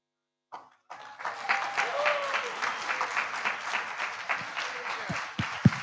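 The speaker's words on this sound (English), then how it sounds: "let's keep the applause going" Audience applause at a Social Business Day conference, steady dense clapping that rises after a brief start and holds at moderate level, with some voices mixed in.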